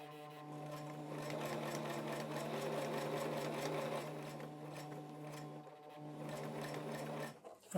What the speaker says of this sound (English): I'm going to do a few of these stitches by turning the handle on the side